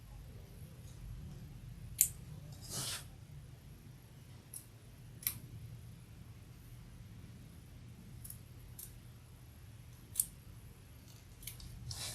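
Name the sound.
scissors cutting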